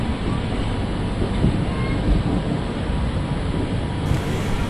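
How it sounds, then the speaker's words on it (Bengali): Train wheels rattle steadily on the rails during a rail journey from Asansol toward Purulia, a continuous loud rumbling roar with wind noise and no pauses. "ট্রেনের চাকার এই শব্দ আমাদের নতুন ভ্রমণ পিপাসু লোকেদের কাছে ট্রেন যাত্রায় এক অন্য মাত্রা যোগ করে"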